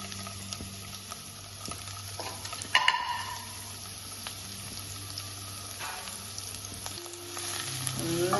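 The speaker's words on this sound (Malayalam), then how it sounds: "ഓയിലൊന്ന് ചൂടായി കഴിഞ്ഞാൽ ഇതിലേക്ക് ഇഞ്ചി വെളുത്തുള്ളി ഒന്ന് ചതച്ചതിട്ട് കൊടുക്കാം" Crushed ginger and garlic frying in hot oil in a pan, a steady close sizzle and crackle with a brief louder burst of spitting and some stirring scrapes.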